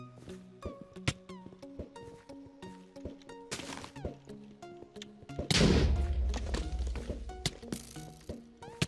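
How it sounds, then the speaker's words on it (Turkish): Diamond sword strikes land in a Minecraft Survival Games deathmatch, sharp thwacks mixed with game sound effects and footsteps, with a denser burst of impacts midway through. "Adam kılıçla çok iyi vurdu"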